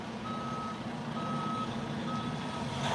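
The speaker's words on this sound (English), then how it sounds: "The garbage truck's coming." Reversing beeps from a construction vehicle, three evenly spaced tones over a steady engine rumble, moderately close, with no one talking.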